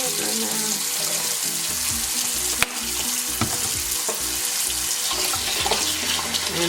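Water from a kitchen tap runs steadily while sweet potatoes are washed in the sink, with clunks and knocks of handling over the continuous flow.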